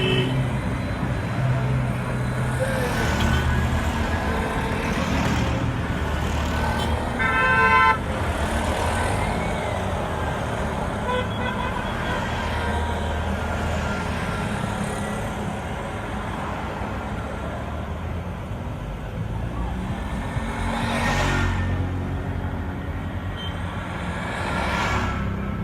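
Busy street traffic on Saint Savior Road in Benin City: cars and trucks rumble past steadily, with a horn toot, a few beeps and occasional louder passing vehicles.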